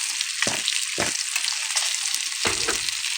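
Pangas fish frying with spices in a pan, a steady close sizzle interrupted by a few short scraping stirs of a spatula, no talk.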